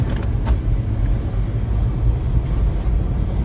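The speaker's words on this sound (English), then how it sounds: "Go through as many gears as we can here in the neighborhood first" A 1998 Ford Ranger Flare Side pickup with a 5-speed manual and 25k miles drives through a neighborhood, its engine a steady close low rumble with road noise and no clear gap for a shift.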